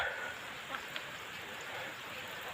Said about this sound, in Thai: ฝนลงเม็ดนักแล้วครับ